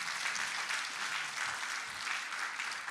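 An audience applauds the teachers at a school class concert, a steady, even wash of many hands clapping at a distance, with no talk over it.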